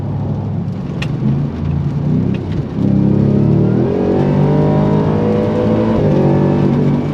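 A powerful off-road pickup, a Ford Raptor R or RAM TRX, accelerates hard, its loud engine note rising and climbing in steady surges through several gear changes, close and unbroken for the whole stretch.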